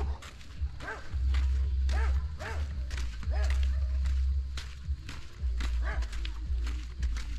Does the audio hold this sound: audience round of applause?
no